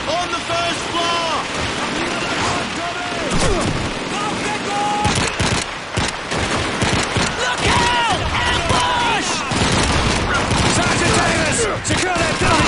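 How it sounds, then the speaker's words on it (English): Loud, continuous MG42 machine gun fire from the video game Call of Duty 2 rattles through a wartime street battle, with overlapping bursts and gunfire. Shouted voices cut in over the din throughout. "There's an MG42 at the end of this road!"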